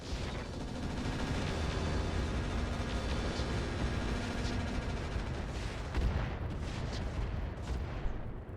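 Mech weapons fire in the Roguetech game as a dense, continuous barrage of booming, crackling shots, loud and steady throughout, with a few sharper bursts near the end.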